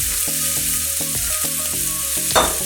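Carrots and onion sautéing in a pan for Maggi fried noodles, a loud steady sizzle broken by repeated clanks of a spatula scraping and stirring, then a brighter clatter near the end.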